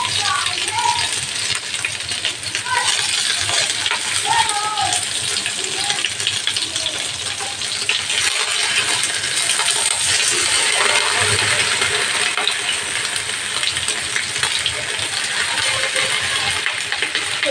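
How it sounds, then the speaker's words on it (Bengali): Banana-leaf parcels of prawn paturi laid one by one into hot oil in a kadai, giving a steady, dense frying crackle and hiss that runs throughout at close range with no talk. "কড়ার তেলটা গরম হয়ে গেছে, এখন আমি একটা একটা করে পাতুরিগুলো দিয়ে দিচ্ছি"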